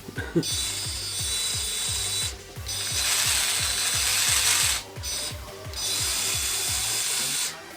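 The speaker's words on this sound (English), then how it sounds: "Getting a lot of noise still from that aluminum pinion gear I'm having there." An aluminum pinion gear in a 1/10 scale RC crawler drivetrain whines and clatters up close, with a rapid steady ticking and a bright gear whine that stops and restarts several times.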